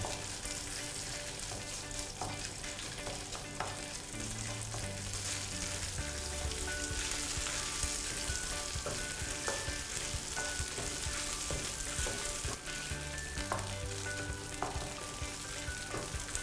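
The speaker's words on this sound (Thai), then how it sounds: "ใช้ทัพพียีๆไปด้วยนะฮะให้มันแตกออกมาอยู่ในน้ำมัน" Thai red curry paste fries in hot oil for a pork belly and long bean stir-fry, pressed and stirred with a ladle: a dense, continuous close sizzle with occasional scraping strokes and no speech.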